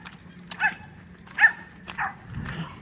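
A dog barks outdoors on a winter walk in Calgary, three or four sharp, moderately loud barks spaced about a second apart, heard from a short distance over faint background noise.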